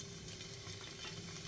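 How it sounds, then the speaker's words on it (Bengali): Small goja sweets sizzling in hot white oil in a wok, a soft steady crackle and fizz, quiet and close, with no voices over it. "এবার আমি গজাগুলোকে দিয়ে ভেজে নেব।"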